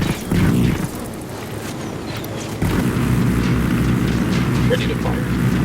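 Vehicle explosion in Ghost Recon Wildlands: a heavy boom, then a roaring rumble of blast and burning vehicle that stays loud to the end, with game voices over it.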